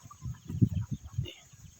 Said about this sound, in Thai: นี่ครับแอบดูไก่ป่าไก่บ้านอยู่ด้วยกัน